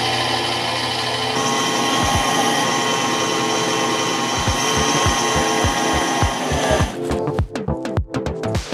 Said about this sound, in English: I'm going to increase the speed on the whisk.